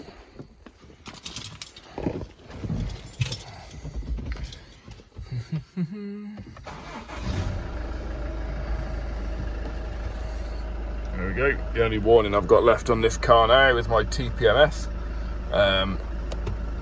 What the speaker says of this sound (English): so I'm going to start it up.